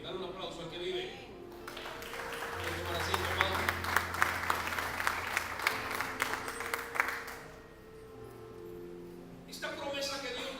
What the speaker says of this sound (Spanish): Dale un aplauso al que vive.